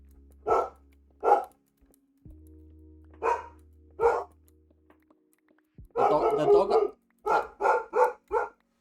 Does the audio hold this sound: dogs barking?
yes